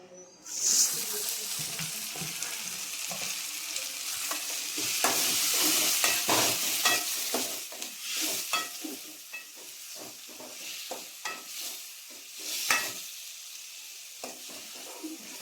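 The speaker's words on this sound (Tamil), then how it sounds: "வெங்காயம் வணங்கிருச்சு அப்படியே தக்காளி போட்டுக்கலாங்க" Onions and tomatoes fry in a pan for a country chicken curry, a loud continuous sizzle with repeated scraping strokes of a stirring spoon close by.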